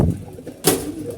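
Domestic pigeons kept on a building give a brief coo, with a short burst of wing flaps or rustling midway through, close by and moderately loud.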